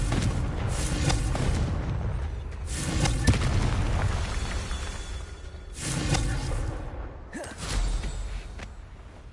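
Repeated Confringo blasting spell explosions in the Hogwarts Legacy video game, several loud booming bursts in a row with whooshing tails, heard alone without talk.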